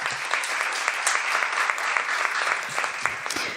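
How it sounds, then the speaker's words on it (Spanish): Steady, dense applause from a sizable audience at a book presentation ceremony, continuous from start to finish. "Un aplauso para ellos."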